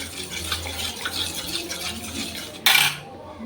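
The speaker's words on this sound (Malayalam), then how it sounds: "കട്ടയൊന്നും ഇല്ലാത്ത രീതിയിൽ നന്നായിട്ട് നമുക്കൊന്ന് മിക്സ് ചെയ്തെടുക്കാം" A spoon mixing cornflour into cucumber juice in a bowl, soft close clinks and swishing liquid, ending in a brief louder splash or clatter.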